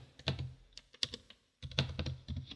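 Fingers type on a computer keyboard in quick bursts of close, crisp keystrokes with a short pause in the middle, while entering text into FMEA software.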